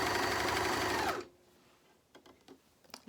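A Juki MCS-1500N coverstitch machine runs fast and steady while stitching a fabric hem, then stops abruptly after about a second, leaving faint handling clicks and rustles.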